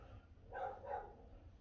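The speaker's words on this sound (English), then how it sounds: "that better not be our dog." A dog barks twice faintly in another room of a home, two quick muffled yaps at a distance over a low hum, with no one speaking.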